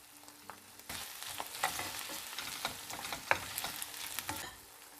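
Finely chopped peppers sizzle steadily in a hot pan while a utensil stirs and scrapes them, with clicks and knocks over the constant frying hiss and no talking.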